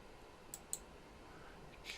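A computer mouse clicks a few times while working in an Excel spreadsheet, with two quick sharp clicks near the start and one more at the end, faint and close against a quiet room hiss.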